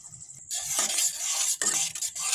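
Tomato sauce, soy sauce, vinegar and chilli powder being stirred in a hot pan for chilli paneer, a close bright sizzle broken by two quick scraping strokes of the spatula.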